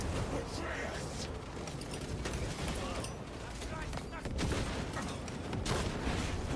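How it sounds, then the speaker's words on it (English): Crack grenade explosions and gunfire in a video game make a dense, continuous barrage of blasts and rattling shots, with a voice talking faintly over the din. "I love crack grenades."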